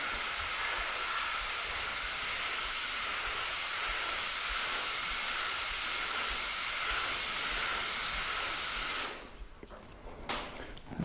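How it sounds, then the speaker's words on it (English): A spray bottle mists water across a car panel in a long, steady hiss lasting several seconds, then stops abruptly, followed by a few faint handling noises. "Right, so let's mist over the entire thing."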